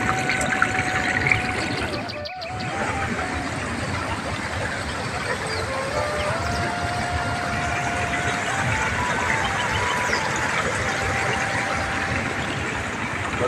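Clear water runs down from a hill in the Konkan region as a steady rushing, trickling flow, close and continuous, with a brief interruption early on and faint voices in the background.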